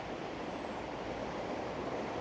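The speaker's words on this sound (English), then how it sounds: "all that water comes down and goes across the path here" Water at Aberdare Park in Wales runs down and across a footpath into a pond, a steady unbroken rushing wash close by with no pauses and no voices.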